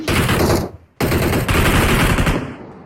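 Loud automatic gunfire from the PUBG Mobile video game, a dense continuous burst that breaks off briefly near one second and then resumes just as hard until the end.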